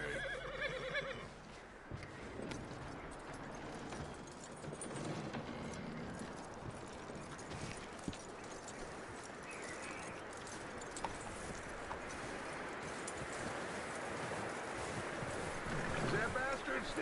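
Horse in a video game neighing with clip-clop hooves, a steady mid-level stretch of hoofbeats and whinnies under ambient wind, with people talking over it.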